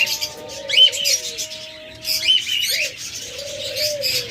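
Pet lovebirds or cockatiels in a cage give soft coos and thin chirps in short phrases, close and fairly clear, with light rustling between calls and no talking.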